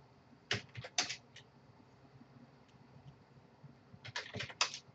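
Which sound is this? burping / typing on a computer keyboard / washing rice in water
typing on a computer keyboard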